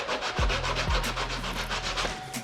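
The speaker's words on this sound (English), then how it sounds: "I use 80 grit sandpaper" Close, steady back-and-forth rasping of 80 grit sandpaper along the edge of a plastic fender flare on a vehicle, with short low thumps near the start as the block is set in place.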